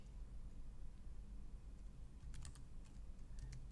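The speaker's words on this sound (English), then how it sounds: "Type in my username" Typing on a computer keyboard while entering a username into a database admin login, a quiet run of soft key clicks that grows a little more distinct toward the end over steady low room hum.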